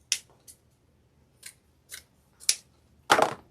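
Scissors snip through deco mesh while trimming a fall wreath tail, a handful of short crisp cuts spaced irregularly, ending in a louder, longer crunching snip, close and alone with no talking.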